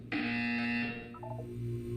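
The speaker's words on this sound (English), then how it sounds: "You will hear a buzzer." A loud electronic video game buzzer sounds once, a steady harsh tone holding for about a second before giving way to softer tones and a low hum.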